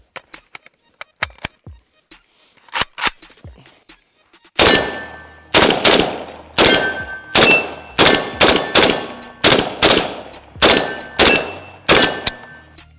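AK-47 rifle chambered in 7.62x39 fired on a range: a few faint distant reports, then a run of loud sharp shots in quick succession, each ringing and echoing out.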